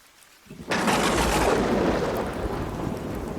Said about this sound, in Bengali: ঠিক তখনই আকাশের তীব্র শব্দে একটি বাজ পড়ল